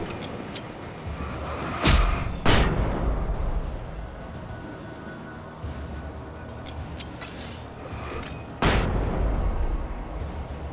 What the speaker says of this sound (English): Just running through the woods, using flashbangs.